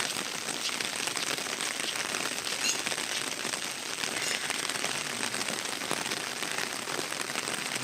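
Heavy rain pours down steadily in a rural outdoor setting, making a dense, loud, unbroken hiss of drops hitting surfaces with no pauses.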